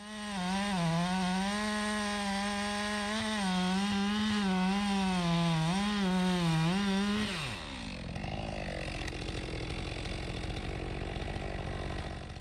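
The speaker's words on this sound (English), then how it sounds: "When the rakers are too low, it cuts really, really aggressively, grabs the wood. You can see the chainsaw kind of like jams in." A chainsaw bogs and snarls as its chain grabs into a log because of low rakers, a loud steady whine that wavers in pitch for about seven seconds, then cuts out and leaves quieter rustling and handling noise.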